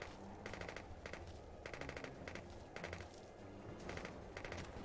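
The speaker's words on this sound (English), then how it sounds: "They're firing. Let's fire back." Rapid bursts of machine-gun fire from units in a Cold War real-time strategy game, arriving in repeated short volleys over a constant low battle rumble, with no talk.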